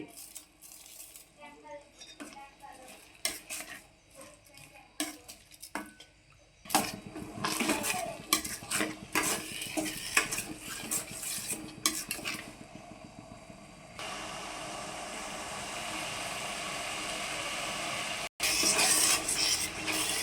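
Tamarind pulihora mixture stirred slowly in a pot with a spoon, scraping clatter and faint bubbling near and moderately loud, with a steadier simmering hiss in the final seconds and no voices.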